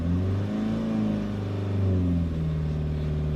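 A Renault Kangoo diesel engine, used only for city driving and being decarbonised, revs hard under full throttle in a workshop, a loud droning rumble that rises and falls steadily without any talk.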